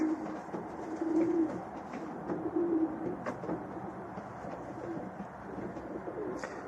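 Domestic pigeons cooing in a loft, soft low repeated coos in short phrases against a steady background hum, with faint clicks and rustles.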